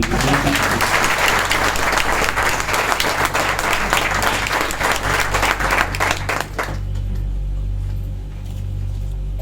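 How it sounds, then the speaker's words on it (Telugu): Seminar audience at a mindset training program in Rajahmundry breaks into loud, dense applause that fills the room for several seconds, then stops abruptly, leaving low hum and faint room noise. "అయితే ఒకసారి క్లాప్ ఇవ్వండి సార్."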